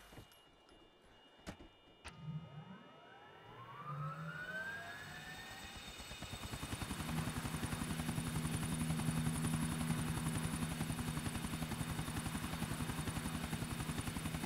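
A helicopter engine in the GTA IV video game rises from a whine into a loud, steady, droning rotor roar with a continuous high hum, with a few sharp clicks at the start.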